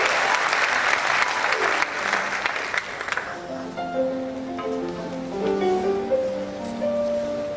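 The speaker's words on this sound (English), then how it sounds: "another round of applause for yourself" A large hall crowd at a University of Benin matriculation ceremony breaks into dense, loud applause that fades after a few seconds into murmuring voices and scattered talk.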